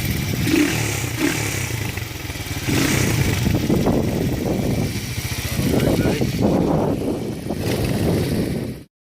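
A Honda XL185S or Yamaha XT 125 motorcycle runs nearby, its engine a loud, steady throbbing rumble with small rises in pitch, and a voice speaks over it.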